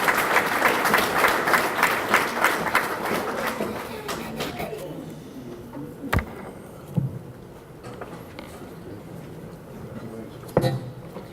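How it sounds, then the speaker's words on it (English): Dinner guests at a memorial scholarship banquet give a scholar a round of applause. The clapping is dense at first, then dies away after about four seconds, leaving a quiet room with a few sharp knocks and faint murmurs. "Give Jesse a round of applause,"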